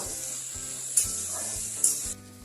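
Vegetables coated in spices fry in a pan for a cabbage dish, producing a soft continuous sizzle with two brief sharper hissing bursts as the mixture is stirred, close and fairly quiet.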